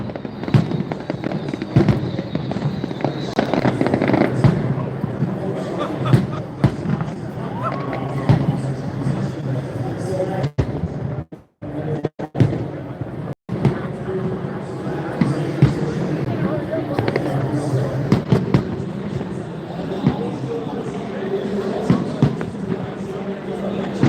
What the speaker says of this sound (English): Free fireworks show.